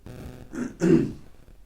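Someone clears their throat close by in two short, rough bursts, the second louder and fuller, then quiet.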